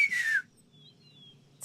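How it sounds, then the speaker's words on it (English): A single rising-then-falling human whistle, close and fairly loud, from a character in The Longest Journey adventure game, lasting under half a second before quiet ambience and a faint tonal hint. "Can you whistle? Like this?"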